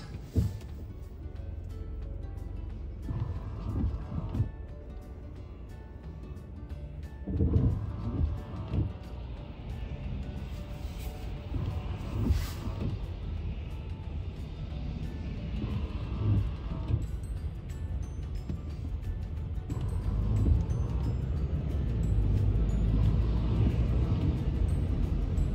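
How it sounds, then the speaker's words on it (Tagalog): Snowplow truck rumbling along a snowy road, a long low engine drone that swells and fades as it passes, with no voices over it. "Snowplow truck."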